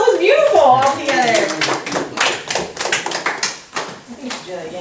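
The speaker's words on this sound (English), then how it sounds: "Yourselves a round of applause" A small group breaks into a round of applause, scattered hand claps mixed with excited voices talking and calling out over them, lively and close.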